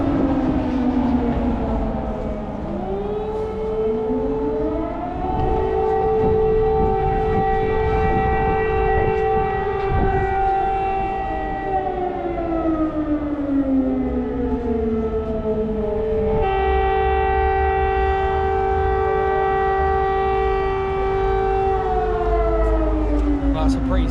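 A civil defense air raid siren in Ukraine wails loud and sustained, its pitch rising and falling in long slow sweeps, with faint voices underneath.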